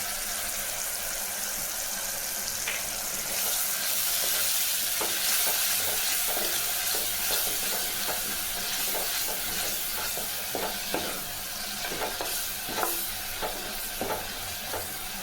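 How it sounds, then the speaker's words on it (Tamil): Shallots sautéing in a pan for drumstick leaf soup, a steady sizzle and frying hiss with repeated clinks and scrapes of a spoon stirring, close and fairly loud throughout with no talking. "சின்ன வெங்காயம் நல்லா வதங்கி பாருங்க"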